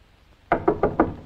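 Four firm knocks on a door in a steady, evenly spaced rhythm, close and loud, with no voices in between.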